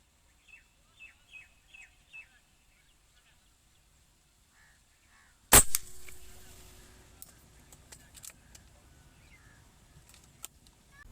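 An air rifle fires a Pakistani-made JSB 18.13-grain pellet outdoors. One sharp, loud crack comes midway after a run of faint bird chirps, followed by light clicks and rustling.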